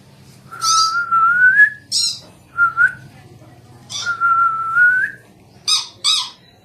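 A pet parrot whistles close by in a series of clear, rising tonal whistles mixed with sharp chirps and squawks, pausing briefly between phrases.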